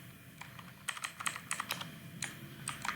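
Computer keyboard keys clatter while HTML code is typed, a quiet irregular run of close, crisp clicks with short bursts and brief pauses.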